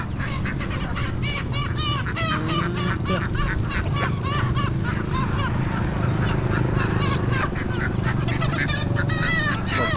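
Bundled live native chickens at an open-air fresh market in Savannakhet, Laos, cluck and squawk continuously amid dense crowd murmur and bustle, with overlapping calls throughout.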